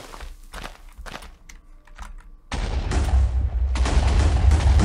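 Minecraft explosions set off to blow up a final menu: a loud, dense burst of blasts and crackling debris starts partway through and keeps building, following a stretch of quieter clicks and taps.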